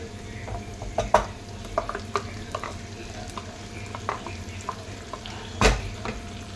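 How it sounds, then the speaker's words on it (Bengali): Sweet potato is stirred in a pan over a medium gas flame, with a continuous low sizzle broken by scattered scraping strokes and clinks of the utensil against the pan, one louder knock near the end. "গ্যাসটাকে একটু মিডিয়াম ফ্লেমে রেখে আমি এটাকে ভালো করে নেড়ে নেবো।"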